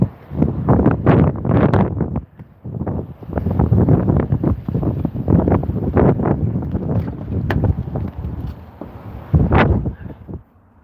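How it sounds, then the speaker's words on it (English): Strong outdoor wind buffets a microphone in loud, irregular gusts of low rumbling bluster that continue almost without a break. "Wind is bad."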